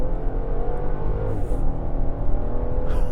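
A 2022 Genesis GV70 AWD 3.5T Sport Prestige with a 3.5-liter twin-turbo V6 and rear-biased all-wheel drive pulls hard, its steady, loud engine rumble building under acceleration with no one speaking.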